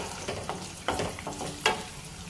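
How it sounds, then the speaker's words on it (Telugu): Chopped onion frying in oil for a village-style fish curry, a close, continuous sizzle punctuated by a few scraping stirs of the spatula, no talking. "ఆనియన్స్ కలర్ వచ్చి మారే వరకు ఇట్లా కొంచెం దోరగా వచ్చే వరకు మనం ఫ్రై చేసుకోవాలి"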